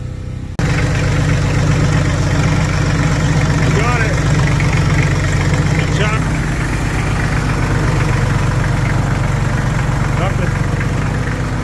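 A tractor engine catches and settles into a steady, rumbling idle close by, a constant throb that carries on while someone speaks briefly over it.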